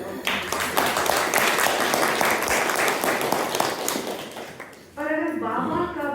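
An audience claps together at a Brahma Kumaris spiritual class in Mandla, loud steady applause for about five seconds before it stops and a voice begins speaking.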